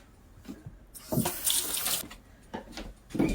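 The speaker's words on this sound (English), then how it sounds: "I'm gonna go and wash my hands again real quick" Hands being washed under a running sink tap in a home kitchen while cooking breakfast of French toast, fried eggs and sausage; water splashes in uneven bursts, close and fairly quiet, with no talking.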